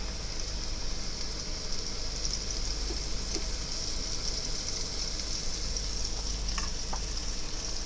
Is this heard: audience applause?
no